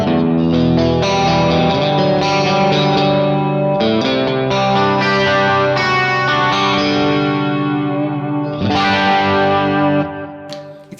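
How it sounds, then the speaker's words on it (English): A Kemper guitar patch combines a pitch shifter and chorus, giving strummed chords a shimmering upper layer and a wide, swirling depth. The chords ring loud and continuous, with a fresh strum near the end before fading. "This little sheen on top from the pitch shifter, and you get this depth from the chorus"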